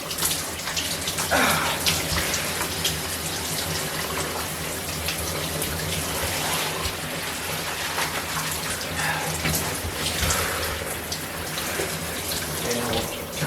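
Warm to semi-hot water pours steadily from a shower during a hydrotherapy session, a continuous splashing hiss with slight shifts as the spray lands on a body, and a voice faintly present at times.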